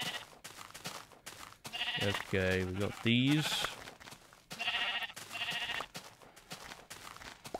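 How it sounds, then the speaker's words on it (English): Minecraft Infdev sheep let out several loud, wavering bleats in quick succession, mixed with game sounds, while someone talks over them. "Oh, more sheep, that's good."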